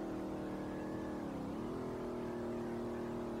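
Nissan 350Z engine in the SLRR driving game, a steady droning tone that dips briefly as the gear shifts into fourth, then holds steady again, moderately quiet with no talking.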